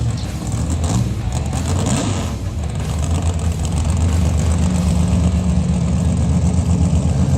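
A car engine rumbles steadily as it pulls away from a gas station, a loud, continuous low drone with mechanical noise and no clear change in pitch.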